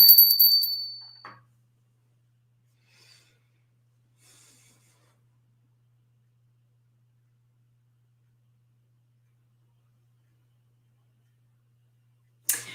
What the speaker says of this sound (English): Georgie Moon, let's ring the bell.